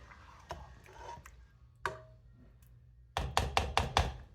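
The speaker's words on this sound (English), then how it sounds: "We'll go ahead then and stir all of that together." A spoon stirs a one-pot triple protein chili of beef, beans and smoked sausage, with scattered knocks and taps against the pot, then a quick run of sharp clacks close by, with no talking.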